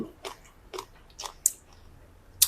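Raw onion bitten and crunched in a few sharp, close bites with wet chewing between them, eaten alongside steamed fermented fish and vegetables.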